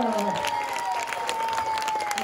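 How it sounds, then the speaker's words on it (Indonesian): An audience at a comedic Balinese performance bursts into brief applause, a dense patter of clapping with a faint tone running beneath it. "Tepuk tangannya dong buat penabur."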